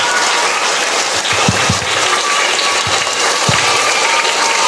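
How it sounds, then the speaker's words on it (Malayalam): An audience of students claps enthusiastically at a school reading week event, a dense, loud, continuous burst of applause with a few sharper nearby claps standing out. "നല്ല ഉഷാറായ കയ്യടി തന്നെയാണ്"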